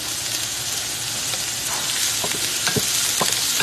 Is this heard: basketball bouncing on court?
no